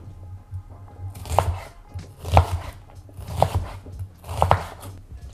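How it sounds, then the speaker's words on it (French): A knife chops an onion on a cutting board, five distinct thuds at roughly one-second intervals, close and clear against a low background hum. "On hache notre oignon."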